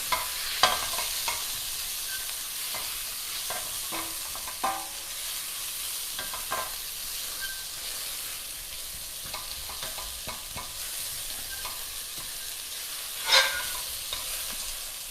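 Onions frying in a pan for an aubergine curry, with a steady soft sizzle under repeated scraping stirs and occasional clinks of a spoon against the pan, nearby and without speech.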